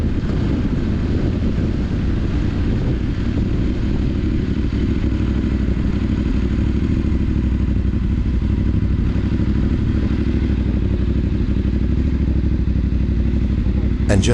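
A group of motorcycles including a Voge 900 DSX idling together in the mountains, a loud, steady low rumble of engines running without revving, with some wind noise over the microphone.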